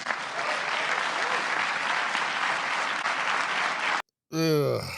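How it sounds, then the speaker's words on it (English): Audience clapping behind a politician at a press event, a steady, even wash of applause lasting several seconds before cutting off abruptly, followed by a brief voice. "Just clapping like train seals behind him there"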